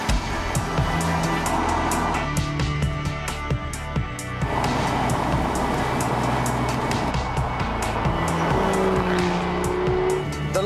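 An Aston Martin DB9 Volante convertible is driven hard, with a loud engine note rising and falling through gear changes and tires squealing, heard close with no talk.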